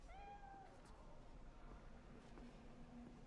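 A cat in the video game Cyberpunk 2077 gives a single short, faint meow at the start, followed by quiet ambience.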